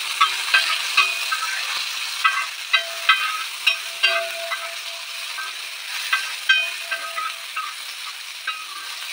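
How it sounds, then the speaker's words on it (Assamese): Tomato frying in a pan after onion gives a continuous bright sizzle, dotted with frequent crackles and pops that come in small clusters. "বিলাহীটো ভাজি ল'ম।"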